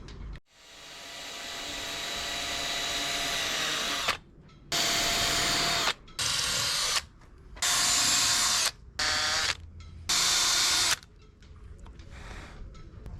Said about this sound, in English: I'll drill the holes.